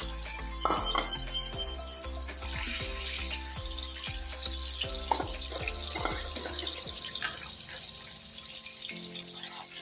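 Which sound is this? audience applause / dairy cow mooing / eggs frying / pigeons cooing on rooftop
eggs frying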